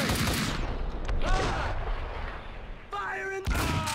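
Gunfire in the video game Max Payne 2: a dense run of loud shots and booming blasts with some game speech mixed in, then a brief ringing tone near the end.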